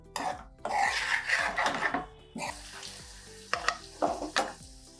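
Paneer fries over medium heat in a pan with a crackling sizzle, broken by repeated scraping stirs of a spatula, close and fairly quiet.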